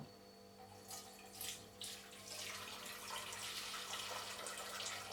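Soup from a Spanish cocido madrileño being poured out of one pot into another to separate it from the chickpeas, a steady splashing liquid stream that builds and continues to the end, with no talk.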